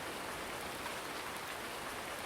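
Steady rain in the farming video game Console Life Farming, a dense, even hiss of drops without a break and without talking.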